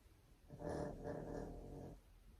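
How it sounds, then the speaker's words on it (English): A dog gives a low, rumbling growl lasting over a second, fairly quiet and close, with soft breathy edges. "That was my dog."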